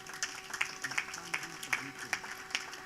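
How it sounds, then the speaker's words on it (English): Scattered applause from an audience at a book launch ceremony for an autobiography, with irregular bursts of clapping that stay fairly light and thin rather than a full ovation. "it's something that deserves a louder applause than what you are giving"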